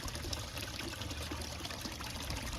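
Water pouring steadily out into a garden bog filter fed from a turtle pond, a continuous splashing trickle heard close by with no talk.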